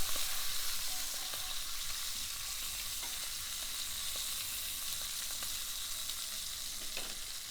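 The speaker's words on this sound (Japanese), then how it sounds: "中火ぐらいでじっくりと焼いていきます" Steady, quiet sizzling of lamb shank searing over medium heat in a pot, a continuous soft crackle with faint pops throughout and no voices.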